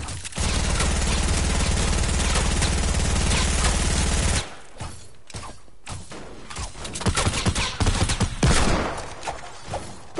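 Rapid, sustained gunfire from a player's gun in a video game, a dense loud burst of shots lasting several seconds, then scattered quieter thuds and impacts.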